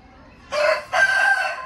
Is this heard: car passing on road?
no